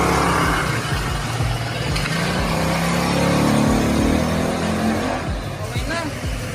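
A Rusi Rapid150 motorcycle engine revs steadily and fairly loud, with a sustained throaty drone that swells midway. Voices talk over it.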